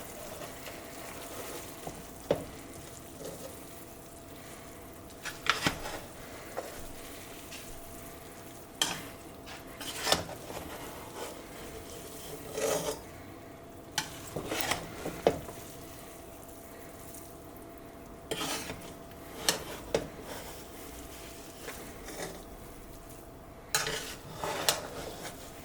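A spoon stirs green chilies into beef tehari in a pot. Scattered metallic scrapes and clinks against the pot rise over a low, steady sizzle, arriving in irregular bursts every second or two.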